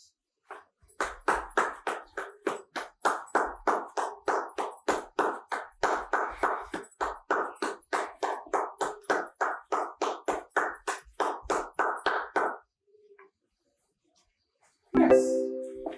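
Rapid, steady handclaps, about thirty in a row, ring out for roughly twelve seconds at close range during a dog relaxation training session, then stop; a brief faint tap follows and a short tonal beep closes the stretch.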